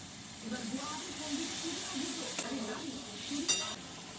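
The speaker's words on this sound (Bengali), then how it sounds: "ফুটে গেছে, এবার পাস্তাটা দিয়ে দেবো।" Homemade wheat-flour pasta dropped into a pot of boiling water, giving a soft hiss and bubbling with a few light splashes and a brief sharper clatter near the end, quiet and close.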